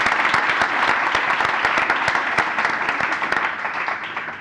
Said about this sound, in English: So please, big applause for yourselves for coming tonight.